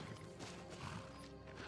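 Hooves of a horse in the Skyrim video game clop in a quick, muffled run, faint and low in level, with soft thuds beneath a quiet game soundscape.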